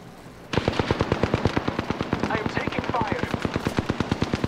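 An automatic weapon in the video game Apex Legends fires a rapid, even burst of shots. It starts abruptly and continues for about four seconds, loud and close.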